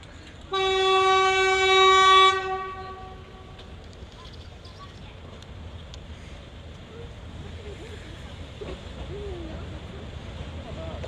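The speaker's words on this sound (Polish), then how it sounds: "Właśnie jedzie nasze pendolino. Jest nasze pendolino." A narrow-gauge train's horn sounds one long, loud sustained blast in Stegna, Poland, then fades into the quieter rumble of the passing train and background noise.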